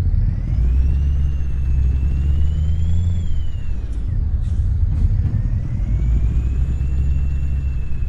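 A Mack Titan Superliner truck in Euro Truck Simulator 2 pulls away in high first gear, its deep engine rumble loud and steady as it accelerates, with a faint rising whine above and no voices.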